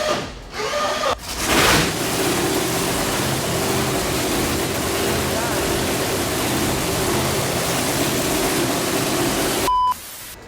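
A 3,000 horsepower drag race car engine roars as a loud, steady broadband blast that starts abruptly, holds for about eight seconds and cuts off sharply.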